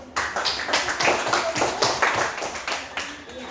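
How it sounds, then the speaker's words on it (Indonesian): A small class group claps in short, uneven bursts, hands patting quickly and close by, with a voice faintly underneath during a teacher training session. "Tepuk tangan dulu."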